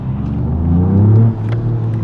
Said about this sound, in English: we get to make little blow-off whistling noises. Yep, and hear the exhaust